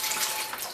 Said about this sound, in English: And then I just put them in my water